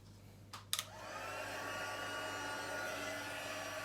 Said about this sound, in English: So we're going to quickly emboss these first before we do our sentiment.